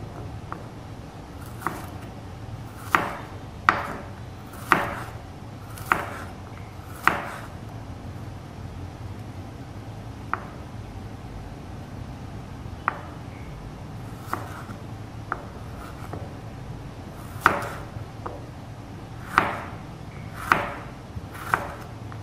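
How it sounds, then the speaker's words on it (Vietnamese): A knife slowly slices shallots on a wooden board for fried shallots in Hanoi-style sticky rice with mung beans, giving sharp, irregularly spaced tapping chops against a quiet kitchen background. "các bạn nhìn các miếng hành mình thái này, mình thái chậm để các bạn xem"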